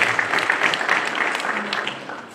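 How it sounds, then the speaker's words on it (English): A crowd at a university career week event claps for the Vice Chancellor, a loud, dense, sustained round of applause with no talking over it. "Kindly just clap for the Vice Chancellor."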